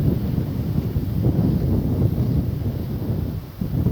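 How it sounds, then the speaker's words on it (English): A cooling southwest breeze buffets the microphone at a coastal walk between Brightlingsea and Clacton on Sea, producing a steady low rumbling wind with no voices. "Lovely cooling breeze from the southwest."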